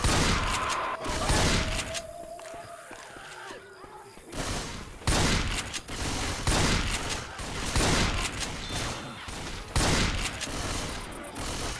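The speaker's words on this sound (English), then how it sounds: "I figured I'd use the shotgun for a bit" Repeated shotgun blasts from Left 4 Dead 2 gameplay, loud broadband bursts coming every second or so across the whole stretch, mixed with dense game noise and clutter.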